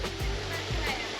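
The Dreimühlen waterfall rushes with a constant broadband roar, loud and close, with faint low thumps briefly breaking through.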